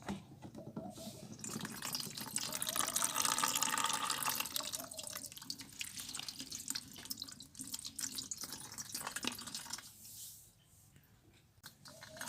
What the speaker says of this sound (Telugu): దీన్ని బాగా ఇలా మొత్తం వాటర్ అనేది దిగిపోయే వరకు చేసుకోవాలి